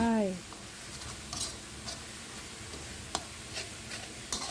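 Pork rinds are stirred into chili paste frying in a pan, giving a steady soft sizzle with occasional scraping clicks of the utensil against the pan while someone speaks.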